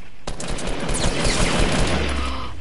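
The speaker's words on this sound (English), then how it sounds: "how he's shooting me!" Dense video game gunfire, a fusillade of overlapping rapid shots and bursts that continues loud and unbroken for a few seconds, with no talk.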